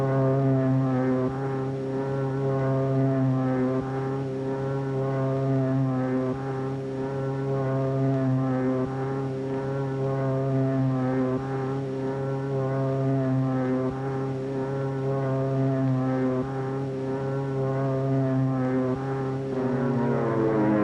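Propeller aircraft engines run up for takeoff, a loud, steady multi-engine drone with layered harmonic hum that holds continuously and swells slightly near the end, heard alone without voices.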